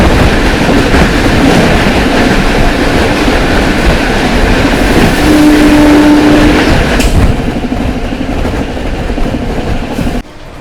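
Howrah Rajdhani express train (No. 12302, New Delhi to Howrah) rushing past the Patna Amrit Bharat at night, a loud, steady roar of rolling wheels and wagons with clickety-clack rhythm that fills the whole stretch, easing slightly near the end.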